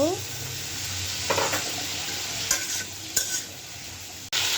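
Vegetables with chili and coriander powder sautéing in a pan, a steady broadband sizzle with a few scraping stirs and a brief clatter near the end, close and continuous with no talking.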